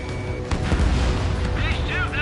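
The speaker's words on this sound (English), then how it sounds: "Missile away." A missile launch in a video game, a heavy booming blast with rumbling roar and a rising whistling tone, loud and close, with speech overlapping it.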